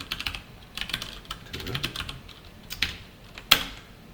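Quick bursts of keystrokes on a computer keyboard during coding, uneven clusters of close clicks with short pauses and a sharper tap near the end, no voices.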